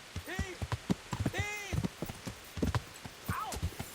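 A horse's hooves clip-clop at a trot in the medieval game Kingdom Come Deliverance, quick rhythmic thuds close by, with whinny-like calls and voices woven among the hoofbeats.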